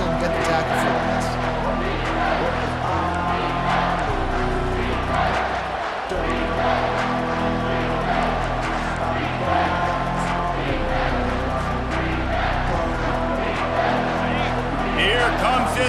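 A home crowd roars in the EA Sports College Football 25 video game, a dense, steady swell of cheering under continuous play-by-play commentary.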